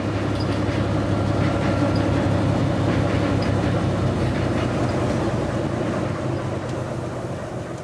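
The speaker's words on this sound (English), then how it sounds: "take a look at the train rolling through." A Soo Line freight train rolls steadily past at rail level, a continuous rumble of wheels and railcars with faint clicking over the joints, loud and close throughout, fading slightly at the end.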